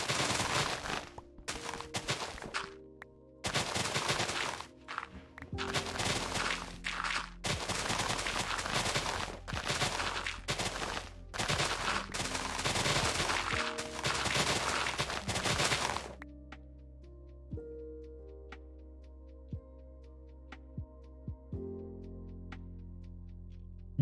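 Car mufflers backfiring in rapid crackling bursts of pops, loud sharp volleys in several clusters over about fifteen seconds, then falling away to sparse faint clicks against a quiet tonal background.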